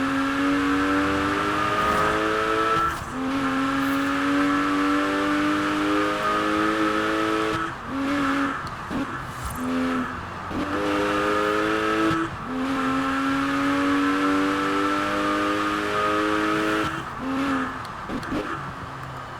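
A carbon-fibre Gunther Werks Porsche is driven hard in Forza Horizon 4, its engine revving loudly through repeated upshifts and brief throttle lifts, with occasional tyre squeal over roughly twenty seconds.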